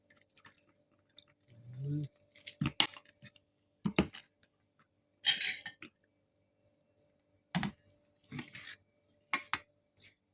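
Someone chewing and eating grilled tomato with onion during a lunch meal, with several short close bursts of mouth sounds separated by pauses and a few faint dish clinks, no talking.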